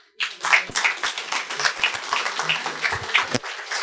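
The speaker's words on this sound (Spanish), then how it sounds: "Recibámoslo con un fuerte aplauso" Audience applause welcoming a speaker at a lecture on ethics and integrity in public and business life, a moderate burst of clapping that swells quickly and holds steady for several seconds.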